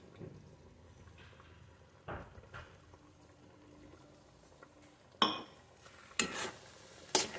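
Patishapta pitha filling is stirred in a pan: a few faint, sparse scrapes and knocks against a quiet background, with louder clatters near the end.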